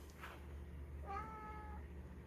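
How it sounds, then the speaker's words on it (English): A house cat gives a single clear, mid-loud meow in a quiet indoor room, rising then holding briefly before trailing off, with only faint background hum. "I do have a cat."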